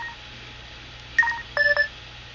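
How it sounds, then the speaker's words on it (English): Dialing tones from a silver LG KE850 Prada mobile phone: a short burst of beeping keypad tones, then a quick cluster of several more, fairly clear over a quiet room hum. "I am about to make a phone call to show you that the phone is on and it is activated"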